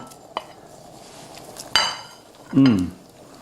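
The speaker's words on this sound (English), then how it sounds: "And we're adding in the hot Italian sausage. We're going to stir that right in." A spoon scrapes and knocks in a pan as hot Italian sausage is stirred into a simmering tomato mix for chili con carne, a few close clinks and a heavier scraping stir near the end.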